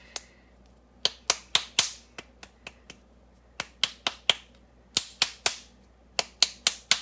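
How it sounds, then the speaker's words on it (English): Wet clay being smacked flat by hand during pottery handle pulling, sharp slapping hits in quick bursts of two to four with short pauses, close and crisp with no talking. "It's probably fun to hear me smacking clay around."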